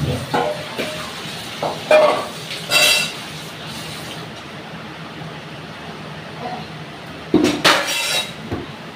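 A wok is set down hard on a stove, making a few sharp metallic clanks and clinks near the start and again toward the end, with quiet room noise between and rain audible in the background.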